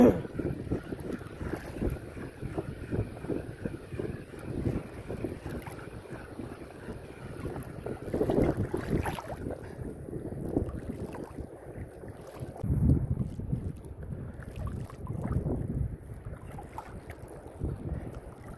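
Strong wind roars and buffets the microphone in rough gusts over open water, a continuous rumbling rush that swells and eases without any talking.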